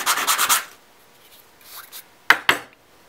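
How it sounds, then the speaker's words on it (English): Sandpaper rubbing a soda bottle cap, with a quick burst of close scratchy strokes, a pause, then two sharper rasps. "Just kind of just get a little piece of sandpaper. Just work off any other pieces."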